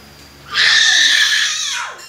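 A person imitates a cat with one drawn-out, high meow that rises then slides downward, loud and near against quiet background.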